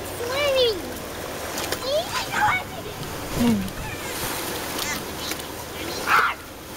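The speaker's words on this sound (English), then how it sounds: "Swimming, look! Look! I'm swimming!" A dog swims through water, its paddling making repeated splashes, while children and adults talk and call out excitedly over it throughout.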